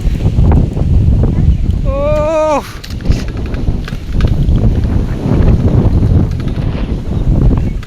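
Strong wind at an open riverside spot buffets the microphone in a steady loud roar, easing briefly near the middle, with a voice speaking over it.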